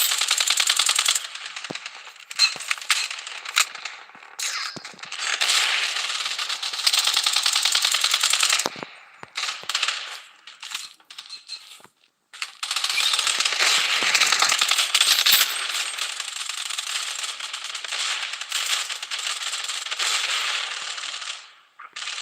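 Rapid automatic gunfire from the video game Payday, loud and sustained in dense bursts with brief gaps, near and continuous through most of the stretch.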